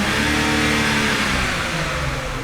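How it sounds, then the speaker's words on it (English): A BMW car engine with a Stage 2 fuel pump setup revs up hard and steadily, a loud, close, continuous roar that rises and holds throughout, with no voices. "As I rev the engine again"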